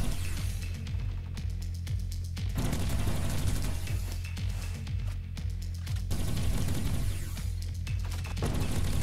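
Rapid bursts of XM8 assault rifle fire with a red dot sight in a first-person shooter game, loud and continuous, with repeated volleys in steady succession across the whole stretch.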